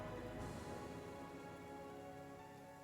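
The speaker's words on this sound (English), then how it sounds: "But the rain stirs some of you awake." Steady rain falls continuously as a quiet ambient wash, heard alone without voices.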